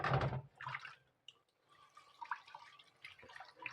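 Stinging catfish (shing fish) being washed under water in a kitchen, heard as faint, brief splashing and trickling with short pauses between.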